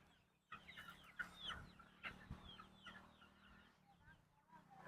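Chickens cluck steadily at close range while waiting to be fed, a dense, overlapping chorus of short calls with occasional louder squawks throughout.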